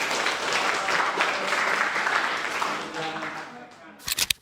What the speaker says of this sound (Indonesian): Oke, boleh tepuk tangan untuk kelompok.